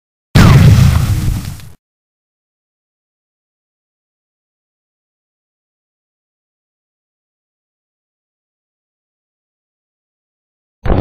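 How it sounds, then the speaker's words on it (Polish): A flashbang grenade bursts in a video game, one loud sharp bang with a short decaying rumble near the start, then silence. "To jest flash i bank."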